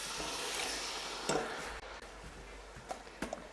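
Canned tomatoes and red kidney beans being stirred into a Mexican chicken chilli in a pan, a soft continuous sizzle with several sharp spoon knocks and scrapes against the pan, fairly quiet and with no voices.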